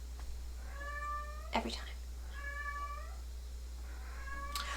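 A pet cat at home meows three times, drawn-out and fairly close, with a low steady hum underneath and a person speaking briefly.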